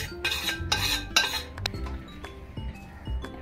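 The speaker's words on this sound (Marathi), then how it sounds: "थोडं चमच्याने हे करायचं, फिरवायचं" A spoon stirs and clinks against a pot of warm flaxseed laddu mixture, giving a quick run of bright metallic scrapes and taps that slow into softer, scattered knocks.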